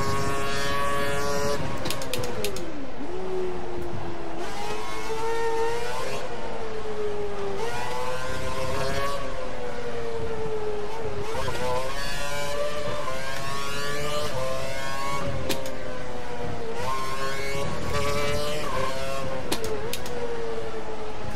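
Lotus race car engine in a Formula racing video game at Abu Dhabi, a loud continuous whine that rises and drops repeatedly with gear changes and braking through corners, with no talk over it.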